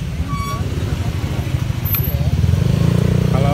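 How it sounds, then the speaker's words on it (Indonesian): Motorcycle traffic crawling through the crowded Jembatan Item flea market in Jakarta, a steady nearby rumble of idling and revving engines that grows slightly louder, with talk over it. "Kalau lewat sini emang kalau pakai motor emang agak macet kak"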